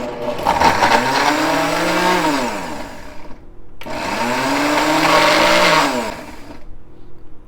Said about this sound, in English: don't look over the blender